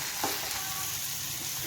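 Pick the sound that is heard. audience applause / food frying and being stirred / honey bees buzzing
food frying and being stirred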